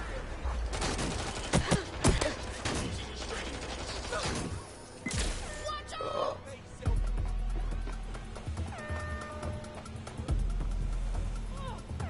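Gunfire in the video game Watch Dogs Legion: sharp shots and rapid bursts over low rumbling game sound, with voices talking through much of it.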